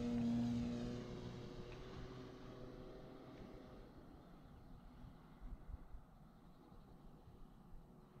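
A Nexa P-51 Voodoo model airplane flying aerobatics: a steady propeller drone that is loudest at the start and fades and thins as the plane moves farther away.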